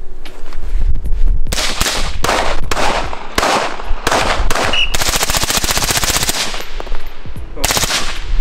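Rifle fire in a video game cracks out in rapid, loud volleys, first as separate shots and then as fast strings of reports, steady and close throughout.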